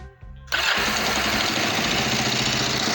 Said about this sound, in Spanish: vamos a arrancar la moto y a ver qué nos encontramos